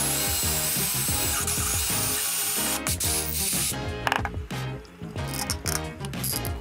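Power drill boring leather pieces out to 1/4 inch for a leather thread rack, a loud continuous grinding whir with busy mechanical rattling, briefly easing and surging again, no talk.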